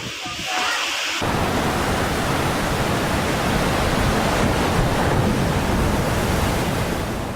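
Super typhoon winds roar along the sea coast of Camarines Sur, with big waves crashing. A dense, unbroken wall of wind and surf noise bursts in loud and close after a brief quieter start.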